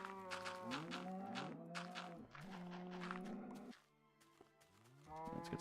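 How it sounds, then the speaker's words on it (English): Cows in a Minecraft-style blocky video game moo repeatedly in long, low, drawn-out calls that overlap one another, fairly close and steady, with a short lull before the mooing starts again. "And kill all these dang cows."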